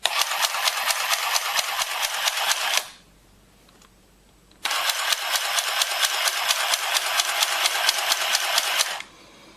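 A Handy Stitch handheld sewing machine stitches through fabric in two long bursts of rapid, even mechanical clatter, separated by a brief quiet pause, close and loud with no talking.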